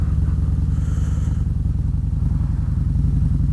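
A Harley-Davidson Stage 4 motorcycle of over 900 pounds accelerates hard, its loud, close engine giving a deep, steady pulsing roar throughout.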